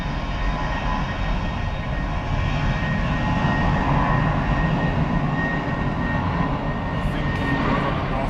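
A FedEx 767-300 cargo jet inbound from Quito at Miami Airport gives a steady, broad, rumbling roar that holds evenly throughout, with no voices over it.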